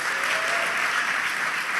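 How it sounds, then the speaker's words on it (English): Audience at a school graduation ceremony applauding together, a thick, continuous roar of many hands clapping at steady loudness throughout, with no voices standing out. "ask all of you to give a round of applause for our head of school"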